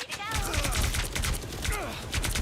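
Rapid bursts of video game gunfire in a ranked match, loud and close, with shots rattling almost continuously for the whole stretch.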